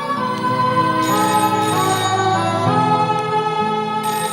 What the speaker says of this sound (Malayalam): ഫോൺ അടിച്ചോണ്ടിരിക്കുന്നു, ആരും ആ എടുക്കുന്നില്ല